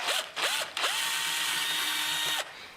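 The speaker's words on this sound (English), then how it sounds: "And then I drill holes for the hardware." A cheap power drill drives holes for cabinet hardware in a painted bathroom vanity, with several short whirring bursts that change pitch, then one long steady run, close by and with no talk.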